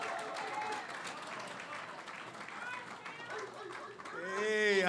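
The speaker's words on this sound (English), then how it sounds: "Clap your hand." An audience at a community partnership breakfast claps steadily, a broad wash of applause with a crowd murmuring underneath and voices rising near the end.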